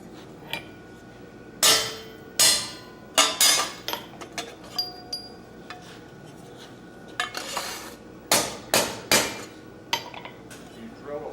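A blacksmith punching a hole in a steel plate at a smithing conference demonstration: a series of sharp metallic hammer strikes and clinks, irregularly spaced, with a few louder blows among lighter taps.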